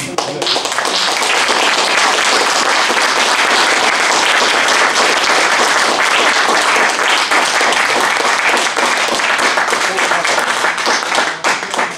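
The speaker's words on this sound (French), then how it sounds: "Je remarque que les applaudissements sont vraiment nourris" Sustained, loud audience applause after a talk at an evening UFO-themed conference in Paris, with dense close clapping running continuously from start to finish.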